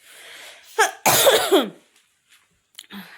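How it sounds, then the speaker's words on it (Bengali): A close, harsh cough bursts out after a short breathy sound, followed by quiet breathing and a faint throat noise near the end. "আবার কাশিটা হচ্ছে"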